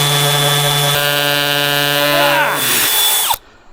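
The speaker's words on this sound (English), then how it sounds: "Got to drill for 2 bolt holes right here." A power drill bores bolt holes into hard, cured wood for a treehouse build, its loud, close whine holding steady, dipping in pitch as it bites, then stopping abruptly near the end.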